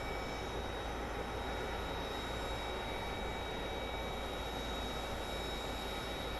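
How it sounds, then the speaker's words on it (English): A WestJet airliner landing at Phoenix Sky Harbor airport gives a steady, loud, broadband engine roar with a constant high whine, sustained without a break and with no talk. "This WestJet's gonna land perfectly"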